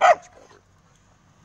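A dog gives a single short bark at the start, then the sound drops away to quiet outdoor background on a gray, cool Saturday morning.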